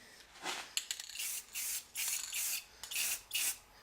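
Several short hissing bursts of spray paint from an aerosol can, close by, separated by brief pauses.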